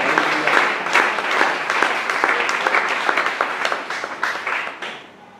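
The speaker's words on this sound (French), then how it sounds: "Acclamons aussi. Et acclame toi-même." A church congregation applauding together, dense loud clapping from many hands nearby that holds steady and then tapers off at the end.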